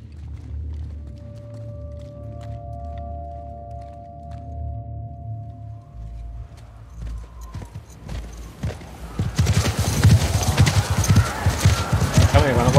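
A horse gallops in The Last of Us Part II, with steady clip-clop hoofbeats building to a loud, dense rush near the end, under voices.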